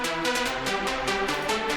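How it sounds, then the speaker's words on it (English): A saw wave synthesizer in a dark electro production plays a bright, buzzy, rhythmic pattern of rapid repeated notes, steady and full with rich harmonics. "So this is like the saw wave synthesizer type"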